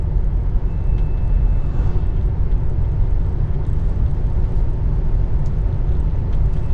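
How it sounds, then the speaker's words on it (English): Inside a Tesla Model 3 cruising at 50 mph on a very smooth country road: a constant, even cabin rumble of road and wind noise, low and steady with no engine note and no voices. "This really is a good opportunity to show you how quiet this car is. I'm going 50 miles an hour on a very smooth country road."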